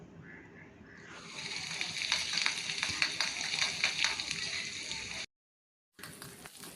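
Coconut pieces fry in a pan, then sliced ginger and garlic go in and the sizzle swells into a loud, close crackle with stirring scrapes. It cuts out briefly and resumes.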